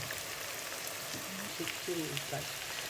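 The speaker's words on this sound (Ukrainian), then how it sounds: "Ми мішаємо наше м'ясо, нашу моркву і цибульку, такі смажуться." Meat, carrot and onion fry in a pan for a home chanakhi stew, giving a quiet, steady sizzle, with a faint voice-like murmur partway through.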